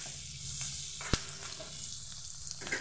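Chopped onions fry in a pan for okra chilli, a steady close sizzle with a soft sharp clink partway through, no voices.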